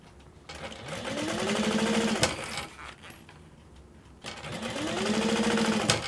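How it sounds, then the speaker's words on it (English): Sewing machine top stitching along the edge of a fully lined mini backpack, running in two steady bursts separated by a short pause, loud and close, with no talking. "what we're going to be doing is sewing, or top stitching, sorry, all the way on the edge"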